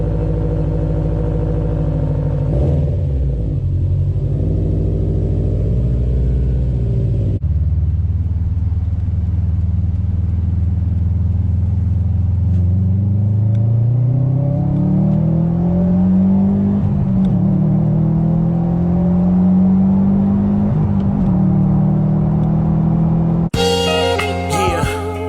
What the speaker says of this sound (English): Today we're doing a review on the Invidia R400 Gemini exhaust, and it's on my 2021 Subaru WRX STI.